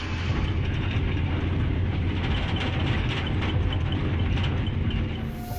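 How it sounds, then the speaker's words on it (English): A train travelling at about 60 mph rumbles past nearby, a loud, continuous low roar with rhythmic clatter from the wheels that holds steady throughout. "their collision with a train traveling at 60 mph"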